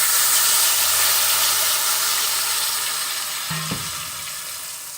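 Food frying in a pan sends up a loud, dense, continuous sizzle that eases slightly over time, with a brief knock of a utensil near the end.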